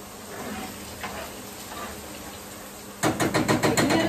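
Chicken pieces frying in a pan for ketjap chicken, a steady soft sizzle close by, then a louder stretch of rhythmic scraping and stirring near the end.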